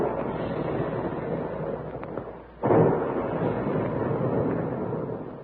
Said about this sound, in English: And there go the big guns